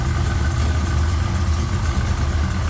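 Steady, loud idle of a 427 small-block V8 with roller cam and roller rockers, MSD ignition and headers in a 1970 Chevrolet Nova, a continuous deep lumpy rumble with no talk.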